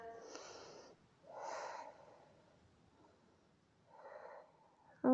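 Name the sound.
breathing during a stretch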